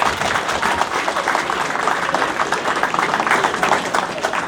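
Audience applause at a student union foundation day celebration in Palin, Kra Daadi district, a loud, dense, sustained clapping from a crowd that fills the whole stretch without breaks.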